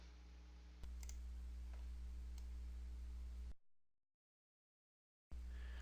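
A computer mouse clicking OK in sheet metal CAD software, a few faint, sharp single clicks over low hum, then a brief dropout into silence.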